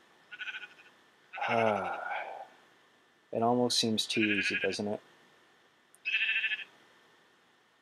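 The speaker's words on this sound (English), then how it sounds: "Hello, sheep." A sheep in the Minecraft video game bleats once, loud and close, while someone talks before and after it.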